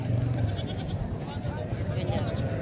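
Sheep bleat amid the busy din of a weekly livestock market, their calls mixed into steady crowd noise and people talking nearby.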